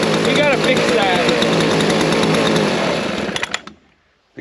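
Chainsaw engine idling rough after a choke and fuel problem, loud and close with an uneven, sputtering rattle that runs steadily, then stumbles and cuts out with a few pops before near silence.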